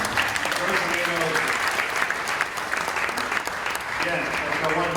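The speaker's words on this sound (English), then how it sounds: "You clap." An audience at a biotech conference applauds after a keynote, with steady, dense clapping from many hands throughout and voices faintly audible underneath.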